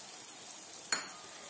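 Beaten eggs frying in a pan over a low flame give a soft, steady sizzling hiss, broken by a single sharp clink partway through.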